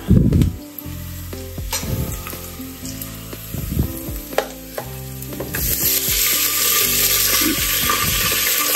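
Chicken pieces dropped into a hot pan for a village-style egg and chicken curry burst into loud, steady frying and sizzling, with stirring scrapes near the start, and the sizzle builds and holds close and alone.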